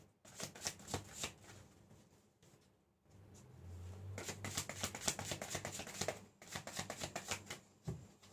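Tarot cards are shuffled in quick riffling bursts, soft and close, with a brief lull in the middle before the shuffling resumes steadily.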